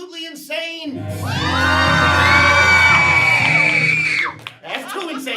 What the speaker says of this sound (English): He said as the crowd went absolutely insane.